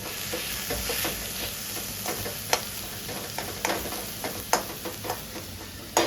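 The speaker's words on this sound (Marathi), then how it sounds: "पूर्ण मिश्रण एकजीव करून घेऊया आपण." A spoon stirs a masala mixture frying in a pan for a Konkan-style prawn masala, with steady sizzling and scattered sharp scraping clicks, close and alone without talk.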